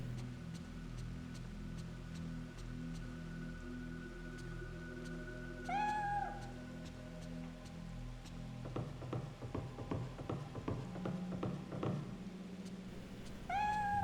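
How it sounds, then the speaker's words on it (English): A cat meows in the video game Fatal Frame III: The Tormented, with one clear, rising-falling meow midway and another at the very end. Quiet game ambience and a patch of light tapping clicks run underneath. "Miku, where's the cat? Okay, so the cat must be upstairs."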